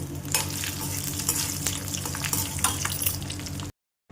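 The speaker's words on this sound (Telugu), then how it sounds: "ఇప్పుడు మనము మిరపకాయలు వేసేసుకుందాం, ఎండు మిరపకాయలు." Dried red chillies fry in hot oil with tempering seeds for a brinjal chutney, giving a steady, close crackling sizzle with scattered pops that cuts off abruptly near the end.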